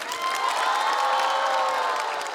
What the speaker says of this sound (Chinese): 感谢大家的掌声啊